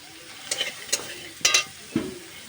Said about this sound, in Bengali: দেখো কত সুন্দরভাবে ভেজে নিচ্ছে।